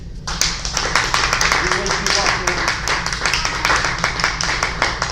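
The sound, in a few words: applause, a round of clapping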